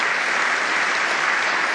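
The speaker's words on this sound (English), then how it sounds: "a round of applause for San Francisco" Audience applause at a San Francisco mayor's State of the City address, a loud, dense, unbroken roar of clapping from a large crowd filling the short stretch.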